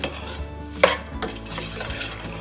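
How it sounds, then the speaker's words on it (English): A spoon stirs black pepper through a plant-based Tuscan chicken dish, giving a short clack against the pan and soft scraping, mixing sounds close by with a faint sizzle beneath. "a teaspoon of black pepper into the dish, and we'll give that a good mix in"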